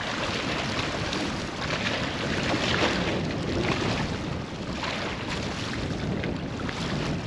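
Strong wind buffets the microphone over choppy lake water, with waves slapping in a constant loud rush outdoors.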